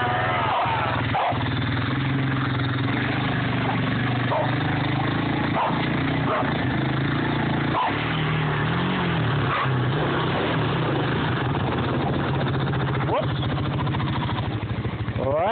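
Honda Rancher ATV engine running steadily out back, a continuous low idle-like drone with periodic knocks and thumps, heard up close with people talking over it.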